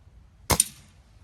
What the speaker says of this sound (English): I've just got to shoot down the targets one at a time.